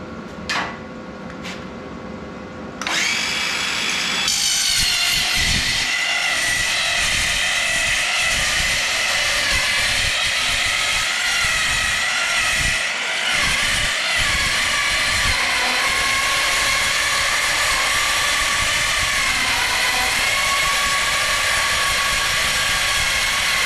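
A loud power tool cutting metal for a large welded ammo box, starting after a few brief clicks and then screaming continuously at high volume for about twenty seconds.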